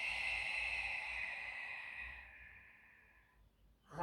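A single long, breathy exhale during a beginner Pilates session, close and soft, fading steadily over a few seconds, with a brief sharper breath at the very end.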